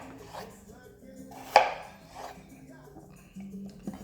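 A knife cuts potatoes into cubes on a board, giving a few sparse, soft knocks with one sharper, louder chop near the middle, while a quiet voice murmurs in the background.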